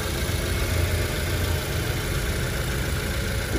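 A 2003 Mitsubishi Lancer with a 1.6 automatic engine idles smoothly and steadily, close by and fairly loud, with a constant low rumble and no talking.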